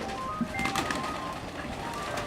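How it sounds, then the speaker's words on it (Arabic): Racing pigeons in a loft, soft low cooing from several birds against a constant background hum, fairly close, with no clear speech. "طبعا شفنا الحمام"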